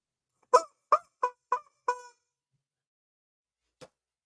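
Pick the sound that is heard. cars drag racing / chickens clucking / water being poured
chickens clucking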